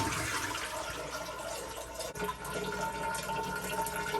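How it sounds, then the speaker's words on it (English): A toilet flushes in a small bathroom of a Japanese apartment where a sink sits on top of the toilet tank. A steady, loud rush of swirling and refilling water continues throughout, with no talking. "The toilet, every time you flush it,"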